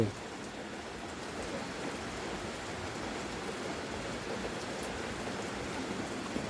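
Steady, soft hiss of rain falling continuously in Khon Kaen, Thailand, even and unbroken, with no voices.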